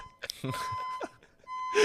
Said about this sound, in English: we have had this fire alarm go off